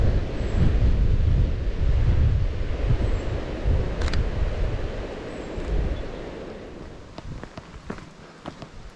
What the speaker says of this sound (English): breaking waves behind it